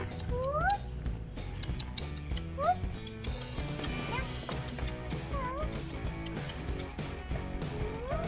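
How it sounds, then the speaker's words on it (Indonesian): Several short rising meows repeat every couple of seconds over a busy background of clatter and low hum. "Ini kucing Yuci yang Yu maksud."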